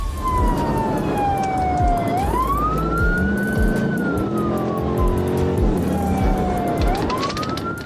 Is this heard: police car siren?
yes